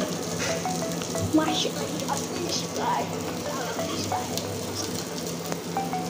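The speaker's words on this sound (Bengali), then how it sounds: "ভাজতেছি। Masala fish fry." Katla fish pieces frying in spiced oil over a very low flame: a soft, steady sizzle with faint crackles, quiet throughout.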